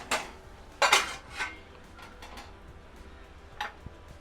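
A lid set on a pan of softening onions, several sharp metallic clinks and clatters close by, then quieter taps.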